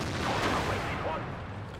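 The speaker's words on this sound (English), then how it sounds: "That was a bounce on the front hull armor from a heat round, so effectively bouncing heat rounds." A HEAT round strikes and bounces off the front hull armor of a Chinese 112 tier 8 heavy tank in World of Tanks. The hit is a loud, booming gunfire-like blast that rumbles on densely for about two seconds.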